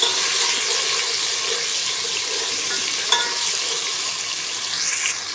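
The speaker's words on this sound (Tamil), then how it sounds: "இஞ்சி பூண்டு அரைச்சி வச்சுருக்கேன் இதை போட்டுக்கலாம் இஞ்சி பூண்டு நல்லா வதக்கிக்கலாம்" Ground ginger-garlic paste fries in a pan for chicken curry gravy, giving a continuous hissing sizzle with a brief knock midway and no talking.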